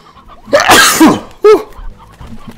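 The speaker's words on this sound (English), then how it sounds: "I knew I had to sneeze." A single loud human sneeze with a sharp, breathy burst, followed by a short throat-clearing cough, heard close up against a quiet background.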